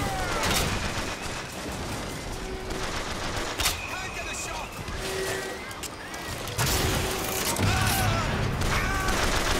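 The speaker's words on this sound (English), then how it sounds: "I guess I need to shoot that" Rapid gunfire and bursts of shooting fill a BioShock Infinite battle, dense and continuous, with explosions, game effects and occasional voices layered underneath.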